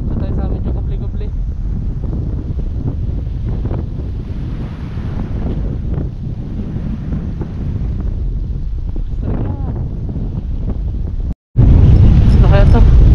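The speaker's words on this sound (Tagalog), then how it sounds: "sobrang hangin na" Strong wind buffets the microphone on a fishing shore, a steady loud roar with surf-like rumble throughout, a brief dropout, then an even louder gust; a voice speaks at points beneath it.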